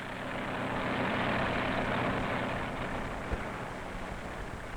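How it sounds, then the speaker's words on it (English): A farm tractor pulling a sickle bar mower through fresh green clover in summer gives a steady, low, droning engine rumble with a faint rattling texture, moderately distant and continuous, with no voices. "The tractor goes round and round the field with a sickle bar attached to it, cutting the fresh green clover."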